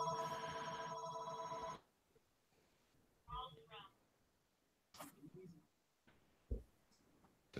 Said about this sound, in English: I'm glad the phone's ringing.